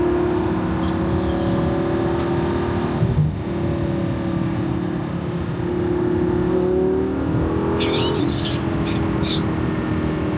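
Steady engine drone of a Lamborghini Gallardo sports car heard from inside the cabin while driving on roads in Washington State's Pacific Northwest, a continuous loud hum with slight swells in pitch as it accelerates.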